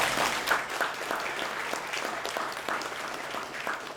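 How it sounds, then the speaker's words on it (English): Audience at a kidney health panel discussion applauds steadily, a moderate crowd clapping in a continuous patter for about four seconds without speech over it. "Now let's give him a round of applause."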